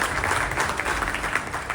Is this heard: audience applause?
yes